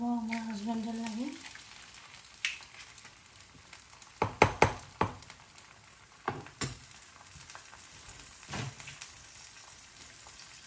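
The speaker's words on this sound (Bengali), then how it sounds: "এখন আমি আরেকটা ডিম ফ্রাই করতে পারবো আমার হাজব্যান্ডের লাগে" An egg sizzles in a frying pan with scattered pops and crackles, a few of them sharp, over a quiet steady hiss. Close by, with a brief tonal sound at the start.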